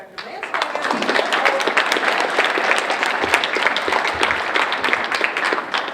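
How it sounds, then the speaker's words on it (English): An audience at a health care introduction event claps loudly for a speaker at the podium, a thick, continuous burst of many hands lasting several seconds, with faint voices mixed in. "Round of applause for Dr. Lance."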